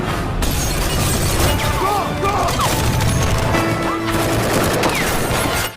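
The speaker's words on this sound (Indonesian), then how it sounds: "Kemudian terjadilah baku tembak antara kedua pasukan tersebut di bandara." Rapid gunfire and booming impacts fill an action-film shootout at an airport, a dense, continuous barrage mixed with crashes, while voices and other soundtrack elements run underneath.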